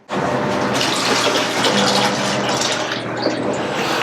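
Water gushes loudly and steadily into a cooking pot while making amla rasam, a continuous splashing pour that lasts the whole time.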